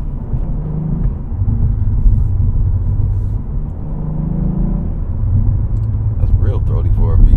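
A Cadillac CT4-V Blackwing with a 3.6-liter engine pulls along the road, giving a loud, close, deep rumble that swells and eases slightly as it drives.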